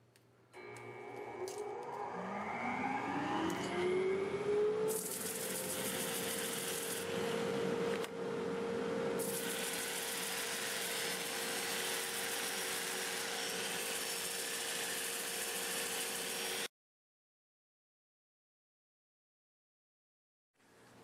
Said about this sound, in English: I'll be sanding with my 2-inch disc, and we'll be sanding in reverse around 400 RPM